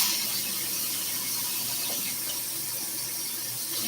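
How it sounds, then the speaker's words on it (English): Tap water runs steadily from a faucet into a container to mix a drink, a constant hissing splash with a faint squeak, close and alone. "Mix it with tap water and you're good to go."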